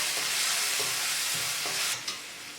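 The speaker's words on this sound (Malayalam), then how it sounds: "വീണ്ടും നല്ലതുപോലെ വഴറ്റി കൊടുക്കണം." Onions sautéing in hot coconut oil for a dried prawn fry: a loud, dense, continuous sizzle with faint rhythmic stirring underneath, dropping sharply in intensity near the end.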